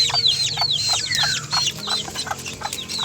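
Month-old Sebright chicks and young fowl clucking and peeping in a busy, overlapping chorus of short chirps and soft clucks, close and steady with faint background noise.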